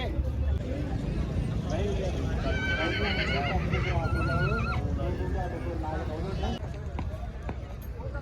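A milky-coloured Nukra horse whinnies loudly at a busy horse market in Talwandi Sabo. Its neighs rise over nearby hoof clops and constant crowd chatter, and people talk close by.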